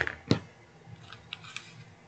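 Scissors snip through twine once, a single crisp, close cut early on, followed by faint rustling of the twine being handled.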